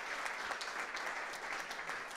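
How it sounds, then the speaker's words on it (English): An audience at a leaders panel event gives a round of applause, a dense steady patter of clapping hands filling the room. "If we can have a round of applause for them,"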